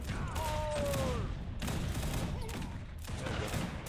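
Cannons fire in Age of Empires 3 battle, sharp booming blasts arriving in a loose volley of three or four bursts amid clattering combat noise and whistling projectiles, moderately loud.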